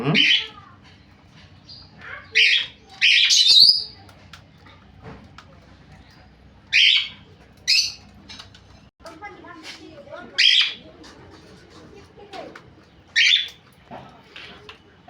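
Pet cockatiels, lovebirds and parrots give sharp, shrill squawks and chirps in bursts of a few every couple of seconds, loud and close over a low background hum.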